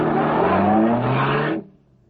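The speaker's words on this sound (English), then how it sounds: "As the great car roared into life" A big black car's engine roars to life and revs hard as it pulls away, a loud, throaty drone that rises and holds for about a second and a half, then cuts off sharply, leaving a faint tail.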